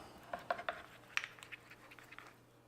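A spoon clinks and scrapes against a bowl while garlic butter is stirred together with parmesan, a few light taps and scratches close by and fairly quiet.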